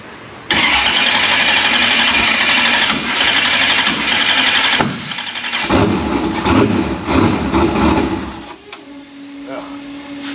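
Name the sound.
Murder Nova race car engine starting and running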